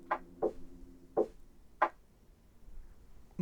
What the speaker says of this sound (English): A series of strange tapping sounds comes from the other end of the line.